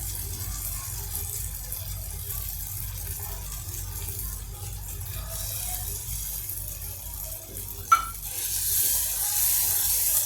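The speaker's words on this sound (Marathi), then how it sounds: "थोडीशी मी जरा पाणी टाकून" Water tipped into a simmering Rajasthani spicy tomato sev gravy: a low bubbling hum, then a sharp splash followed by a bright, steady hissing rush close by.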